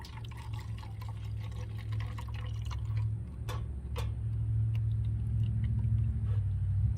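Homemade coconut extract is poured through a cleaned filter and drains into a cup, giving a steady low trickling wash of liquid with a few brief clinks, close and fairly quiet.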